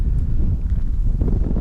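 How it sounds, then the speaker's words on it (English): Gusty wind on a hilltop near woods buffets the microphone with a loud, low rumbling roar that rises and falls continuously. "Quite windy up here"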